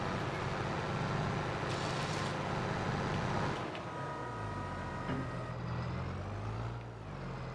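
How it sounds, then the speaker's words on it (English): Engine of a Claas tractor in Farming Simulator 22, a continuous loud rumble that shifts partway through as the engine note changes and drops, with faint whining tones near the end. "I'm just gonna get into our class tractor over here."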